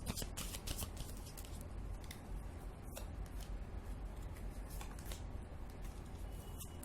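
Tarot cards shuffled by hand in a steady, continuous riffle and slide, with a few sharper flicks as cards are drawn, fairly close and without talk.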